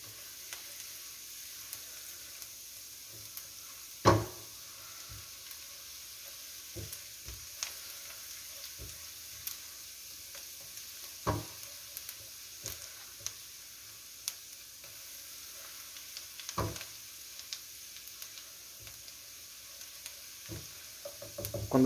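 Onion and garlic frying in oil in a pan, a quiet steady sizzle with occasional clicks and stirring knocks, close and alone without talk.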